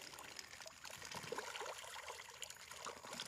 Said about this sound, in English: Let me pour some food right here and I'll keep talking.